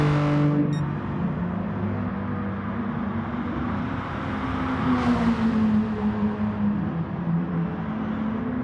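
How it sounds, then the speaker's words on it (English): A race car engine in a racing video game drops through gears under braking with falling pitch sweeps, a burst of crackling exhaust pops midway, then revs steadily again. "Nice crackles as he hits the brakes and goes down the gears."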